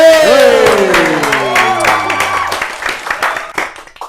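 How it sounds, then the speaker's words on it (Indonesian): Applause and cheering for a first-place national guitar champion, a burst of crowd clapping that starts strong and thins out over a few seconds, mixed with a sustained musical tone and voices. "juara 1 biasanya ditepokin tepuk tangan"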